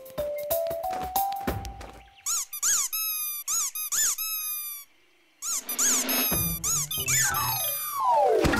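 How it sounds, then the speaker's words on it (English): A cartoonish squeaky doorbell chimes in repeated rising-falling squeals, loud and close, with short pauses between bursts and a thud near the start. "Why is your doorbell making that funny noise?"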